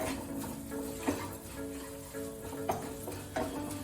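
Soft sizzle in a pan as ingredients are sautéed, with a few sharp spoon taps and scrapes against the pan, close and quiet.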